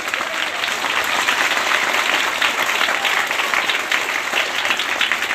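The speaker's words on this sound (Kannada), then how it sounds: "ಬರಲಿ ಒಂದು ಜೋರಾದ ಚಪ್ಪಾಳೆ" An audience at a motivational speech event breaks into loud, sustained applause, a dense, even wash of clapping that holds steady from start to finish with no voices over it.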